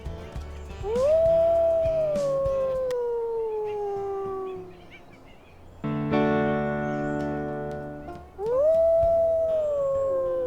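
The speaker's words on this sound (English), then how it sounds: "And let's howl again." Wolves howl in a survival video game, long rising-then-falling wails that layer over each other, first one voice, then a denser chorus, then a fresh howl rising again, loud and sustained with no talking.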